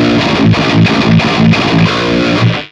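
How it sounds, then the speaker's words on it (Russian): Overdrive-distorted electric guitar played through a Hotone Ampero II Stomp processor, with a loud, dense chugging riff of repeated muted chords at a steady rhythm, alone without talk. "Тогда давайте со стандартными для грелки настройками сначала ее послушаем."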